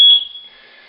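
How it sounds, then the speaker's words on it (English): A home elevator's alarm button sounds a single sharp, loud electronic beep-tone that starts abruptly, then fades into a quieter sustained ringing tone, heard alone with no talking. "This button here will set the alarm and disable the elevator."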